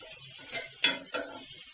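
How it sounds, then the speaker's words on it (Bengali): A few metal clinks and scrapes as a vegetable fry is stirred in a pan, then a lid set down on top, three distinct knocks, close and fairly loud with no talking. "একটু নাড়াচাড়া করে আবার ঢাকনা দিয়ে দিলাম।"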